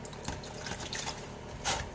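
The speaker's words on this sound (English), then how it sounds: "stick it in the water and let it chill down" Wax queen cell cups dipped into water to chill for beekeeping, giving a brief watery splash and trickle that peaks near the end, close and fairly quiet.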